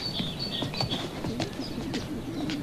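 Pigeons coo and chirp steadily around a dovecote, a soft continuous murmur of calls with light flutters, fairly close and without speech.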